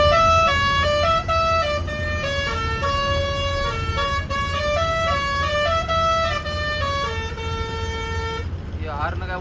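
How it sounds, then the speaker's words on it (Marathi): A multi-tone truck air horn being sound-tested plays a continuous melodic run of loud, bright, stepping tones, ending abruptly with a short burst of noise. "आमचे हॉर्न जे साऊंड टेस्टिंग चालू आहे"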